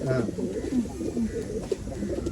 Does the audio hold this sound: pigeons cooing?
yes